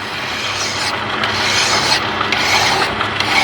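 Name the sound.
filing a motor mount tube with a file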